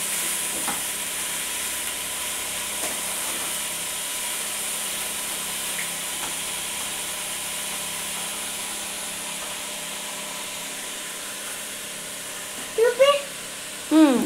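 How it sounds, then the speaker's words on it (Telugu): Green gobi fries in a pan with a steady close hiss and occasional scrapes of stirring, and a voice briefly breaks in near the end. "గ్రీన్ గోబీ వేసి బాగా ఫ్రై చేయాలి"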